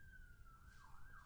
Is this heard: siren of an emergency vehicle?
yes